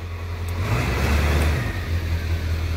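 A 1996 Ford F-250 with the 7.3L engine idles in quiet tuner mode, a close, steady low rumble with a soft, muffled hiss on top.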